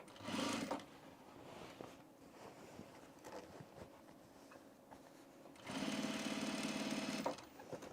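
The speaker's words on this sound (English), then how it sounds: "so let's top stitch our side seam down" Sewing machine top-stitching the side seam of a pair of men's pants, a close, steady mechanical whir in two bursts, a short one at the start and a longer run near the end, with quiet handling noise between.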